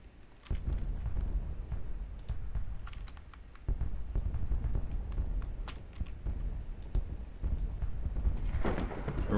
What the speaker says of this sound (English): Alright, we got a thunderstorm happening now.